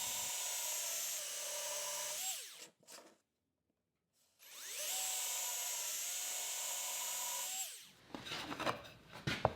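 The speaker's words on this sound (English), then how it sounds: "I'll pre-drill and countersink holes in the centerpiece to mount the hanger." Power drill pre-drilling and countersinking holes in a wooden centerpiece for a bike hanger, two sustained whining bursts that wind down, a short pause between them, then rattling handling noises at the end.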